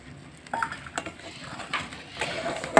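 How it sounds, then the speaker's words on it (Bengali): A metal spoon stirs milk with cornflour in a pot while making palm-fruit filling for patishapta, giving irregular clinks and scrapes against the pot, with a sharper clatter near the end. "কর্নফ্লাওয়ার দিয়ে ভালো করে এভাবে নাড়াচাড়া করে মিশিয়ে নেব।"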